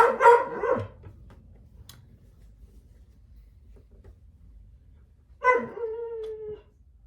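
A dog indoors barking and howling: a loud burst of barks at the start, a quiet stretch, then a drawn-out howling whine near the end.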